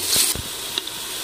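Onions with ginger-garlic paste are stirred in a pot, giving a soft sizzle with a few scraping strokes and a light clink partway through, close and fairly quiet.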